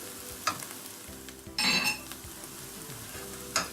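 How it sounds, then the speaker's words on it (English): Cauliflower saute with chives being stirred in a pan, a soft sizzle running throughout with scraping stir strokes and one louder burst of frying in the middle, close and without talk. "I'm going to dump the chives in there"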